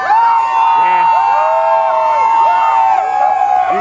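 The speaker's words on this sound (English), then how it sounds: "Rods are cheering, Sexton." A group of people cheering loudly, with sustained high whooping and shouted voices overlapping in a close, continuous burst.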